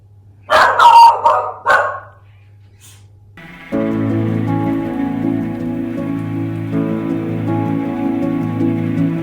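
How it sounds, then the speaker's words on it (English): Dogs bark in a quick indoor burst of several sharp, loud yaps, then fall silent before a steady rain-like hiss and hum takes over for the rest of the clip. "been lots of barking"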